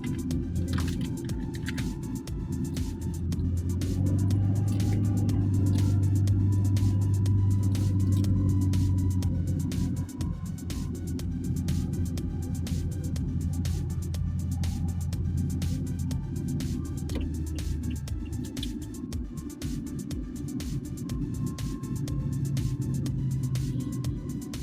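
Vehicles sit in a traffic jam on a street in Palembang, a steady low engine rumble and idling hum with scattered ticks and passing traffic noise throughout, heard from nearby.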